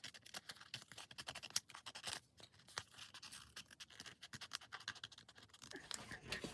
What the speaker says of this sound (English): I'm going to take these scissors and I'm going to cut around the outside.